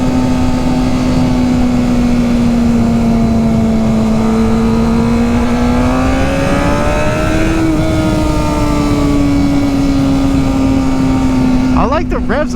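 Honda CBR 600 motorcycle engine on a test ride, a loud close steady engine drone whose pitch sags, rises and settles again as the revs change, with wind rush throughout.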